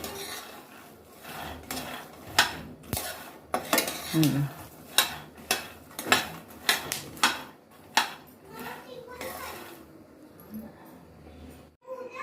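Peanuts dry-roasting in a pan over a high gas flame, with repeated sharp scraping and clattering of a utensil against the metal in an uneven rhythm, close and fairly loud, without talk.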